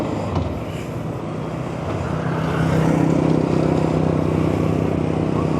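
A motorized tricycle drives past on a road near the Dampulan seawall in Marinduque, its engine droning steadily close by and growing a little louder midway, with no talking.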